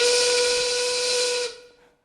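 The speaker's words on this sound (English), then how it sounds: "I hate that whistle." Steam whistle at a mine calling workers to their shift, one loud, sustained shrill blast with a hissy edge that cuts off and fades into silence.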